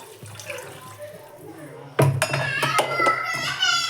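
Water is poured into chicken keema frying in a pan, setting off a sudden loud, splashy sizzle at the midpoint that carries on to the end after a quieter stretch of cooking noise.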